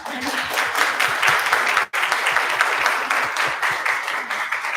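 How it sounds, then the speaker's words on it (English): Audience applause at a human rights seminar, sustained clapping from a full room with a brief break partway through before resuming just as strongly. "Can we give another round of applause?"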